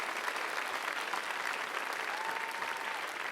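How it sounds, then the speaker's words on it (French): Applause rises from a church congregation, a steady dense wash of many hands that stays even and moderately distant for a few seconds, with no voices on top. "là, vous applaudissez d'une certaine façon"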